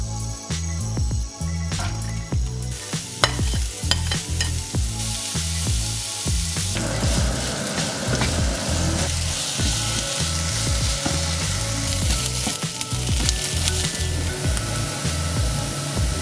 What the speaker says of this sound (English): take our vegetable oil and onion over to a frying pan, and we're going to get it all nice and brown